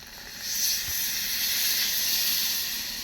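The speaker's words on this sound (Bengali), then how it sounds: "এখন দিয়ে দেবো পানি" Water poured onto fried rice in a hot pan bursts into a loud, steady hiss of sizzling steam that holds for the rest of the moment.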